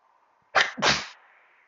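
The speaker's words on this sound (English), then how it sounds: "That was an actual sneeze you done." A single sharp, close sneeze in two bursts, a quick intake snap followed by a louder spray, against a faint quiet background.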